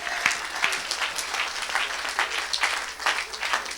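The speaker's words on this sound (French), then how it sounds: "Est-ce qu'on peut acclamer pour ces révélations?" Audience applause at a Saturday church service, sustained clapping from a crowd filling the whole stretch with a faint voice underneath.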